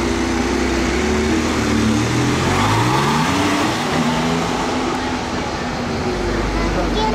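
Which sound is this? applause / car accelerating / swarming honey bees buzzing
car accelerating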